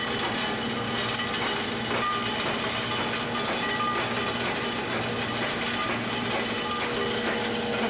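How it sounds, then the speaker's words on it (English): Coal flows through a conduit pipe into a power plant mill as a continuous loud rumbling rush with a faint rattling texture, steady throughout with no voices. "The noise you're hearing is the coal coming from inside, that's flowing inside the conduit."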